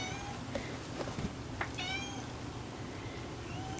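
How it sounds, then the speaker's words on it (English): Indoor house cat meowing several times, short rising and falling cries near the microphone over a faint background hum, with no talking. "And there's the kitty that's meowing."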